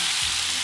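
Garlic butter shrimp and vegetables cooking in a pan, a loud close continuous sizzle with a low thump of the pan early on.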